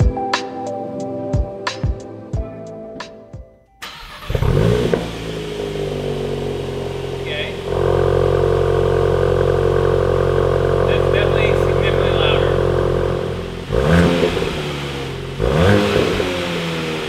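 A VW Golf MK8 GTI fitted with a Clubsport muffler exhaust starts after a few clicks, idles, then holds a sustained rev before dropping back, with short engine blips near the end.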